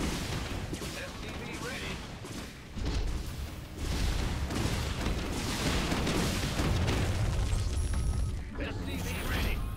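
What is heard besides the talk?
Banshee airstrike explosions in the video game StarCraft II co-op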